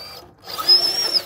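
The electric motor of an RC truck named Thor, running Proline Black Mamba tires, revs up to a high, whining drill-like pitch as it pops a wheelie, loud and close.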